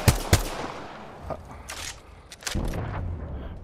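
Distant gunfire pops and short bursts crackle through an Apex Legends fight, soft and scattered over low ambient rumble.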